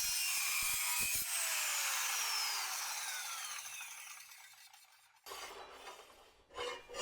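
A metal-cutting saw makes a miter cut with a brief grinding rub at the start, then a long whine that winds down as the blade slows, followed by a short clatter and scrape of handled material.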